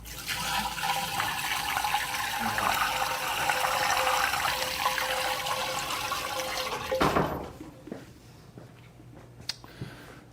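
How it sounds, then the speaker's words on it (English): Sugar water poured into an ice cream maker for cherry amaretto freeze cream, a steady broad liquid rush for about seven seconds that stops abruptly, followed by faint drips and small clinks. "we'll put the water and sugar, the sugar water in"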